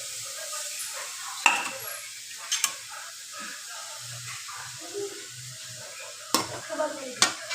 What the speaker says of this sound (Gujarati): હવે આને આપણે ઘીમાં થોડીક વાર સાંતળી લીધો